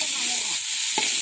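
Tomatoes sizzle steadily in a hot pan while being stirred, with a short scraping knock of the utensil partway through the frying hiss.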